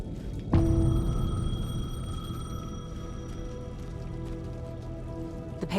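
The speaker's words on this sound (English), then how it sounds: "The payphone was ringing." A payphone in the video game Alan Wake 2 rings with a sustained electronic tone that starts suddenly and holds steadily over a dark, rumbling ambient background.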